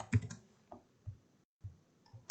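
A handful of sparse keystrokes on a computer keyboard while entering text in CorelDRAW, quiet separate clicks with short pauses between them in an otherwise silent room.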